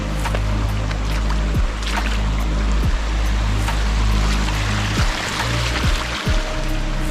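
Water flowing at a small stream crossing on the trail near Dudhsagar waterfalls in Goa, a steady broadband rush and trickle that fills the whole span, close and continuous with no talk.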